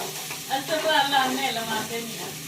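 Spices tempering in hot oil for a Delhi-style tadka, a steady close sizzle with stirring scrapes running throughout, rising slightly in the middle, with a faint murmur of voices beneath.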